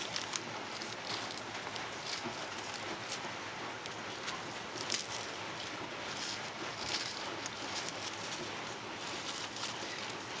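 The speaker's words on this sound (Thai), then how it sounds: "ฝนก็ ตกพรมอยู่นะครับ" Light rain falls steadily, a soft even hiss with faint scattered drops tapping on surfaces.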